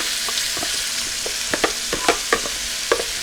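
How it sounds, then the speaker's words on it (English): Chopped vegetables with garlic and jalapeños sauté in a hot pan for mountain chili, giving a steady sizzle broken by sharp scraping clicks and taps as a utensil stirs, close and fairly loud, with no talking. "so now I'm going to put them in, and we're going to saute them"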